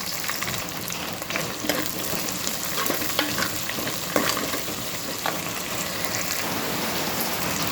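Onion, green chili, curry leaves and spices sizzling in hot oil as a tempering for a fish curry, a steady close crackle with scattered sharp pops and stirring scrapes, no voices.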